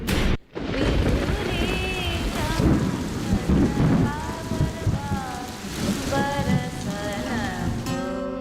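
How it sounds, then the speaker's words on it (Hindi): Unseasonal rain pours steadily in a rural village, with low rolls of thunder rumbling through the downpour while people talk over it. "बेमौसम बरसात हो गई"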